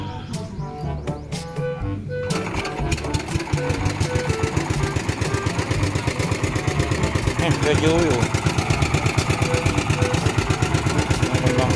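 Motorboat engine on a river crossing between Brgy Cansinala and Sucad, Apalit, Pampanga, chugging loud and close in a fast steady pulse after a short lull, with people talking over it.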